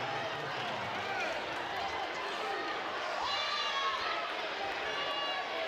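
Arena crowd at a women's college basketball game, UCF against ECU, roaring steadily after a come-from-behind Pirates victory, a dense continuous cheer with whistles and shouts carrying throughout.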